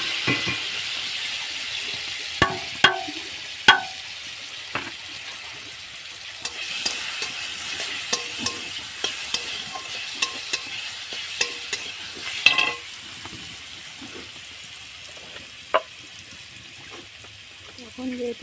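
Ingredients for a meat dish are stirred in hot oil in a wok, making a continuous sizzle with sharp clacks of a spoon against the pan. A voice talks quietly under the cooking.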